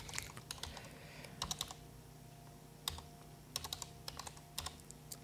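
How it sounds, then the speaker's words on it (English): Computer keyboard keys clack in short irregular bursts as a host name is typed, close and fairly quiet over a steady low hum. "so we can go ahead and type in the host name."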